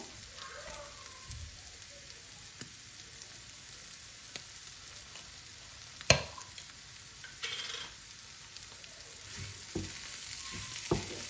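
Spices frying in a pan on low heat and being stirred, a soft, faint sizzle with occasional scrapes and knocks of a utensil against the pan.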